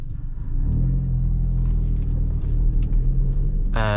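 A manual car pulling away in first gear, with a steady low engine rumble that rises slightly and holds. A sharp tonal whine cuts in at the very end.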